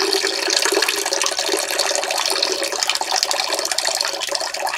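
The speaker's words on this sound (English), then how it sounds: "Gonna pour in the expired beer." Expired beer poured into a toilet bowl, a continuous loud splashing stream of liquid close up, with no talking.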